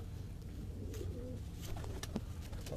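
A pigeon coos softly amid dense, steady background noise, with no one speaking.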